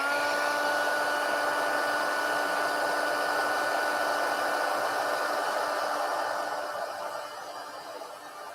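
A heat tool blows a steady, loud whooshing airflow to warm a craft card, running continuously before fading slightly toward the end.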